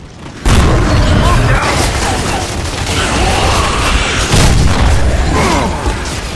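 Mortar blasts in the video game Gears of War 3 multiplayer, heavy booming impacts rolling almost continuously after a sudden onset, loud and dense, with chaotic combat noise layered throughout.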